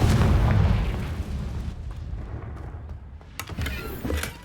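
A Confringo fire spell blasts in Hogwarts Legacy on PS5, opening with a loud, low booming burst that rolls into a rumbling decay, followed by fainter crackles and a couple of sharp pops near the end.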